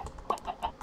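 Chickens cluck in the video game Minecraft, giving a few short, close clucks in quick succession.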